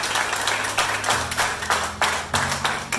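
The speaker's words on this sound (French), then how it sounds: "Applaudissez s'il vous plaît." An audience at a Bible knowledge contest claps as scores are announced, a lively round of applause that swells in repeated waves over sustained musical tones in the background.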